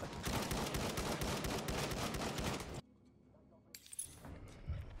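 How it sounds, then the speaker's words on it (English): Rifle fire in the Battlefield 1 video game, a dense stretch of loud, rapid gunshots and battle noise that cuts to near silence, followed by scattered fainter shots and clinks. "it's not exactly the fastest shooting rifle"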